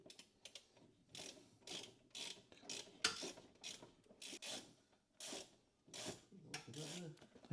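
A ratchet clicks in short bursts while a top bolt is backed out of a Mercedes W126 transmission, the quiet rapid pawl clicks coming in irregular spurts with pauses between them.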